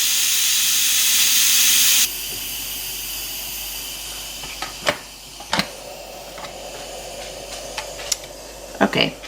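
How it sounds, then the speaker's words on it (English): Steam vents from an Instant Pot valve in a sharp, loud hiss for the first two seconds, then cuts off, leaving a quiet room with scattered clicks and light knocks. "drape this towel over the top of my Instant Pot just to try and help collect some of the steam"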